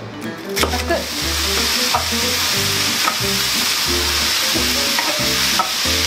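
Borscht ingredients sizzle and fry in a large 28 cm frying pan, a loud continuous crackle broken by repeated stirring scrapes at a steady rhythm, close up with no voices.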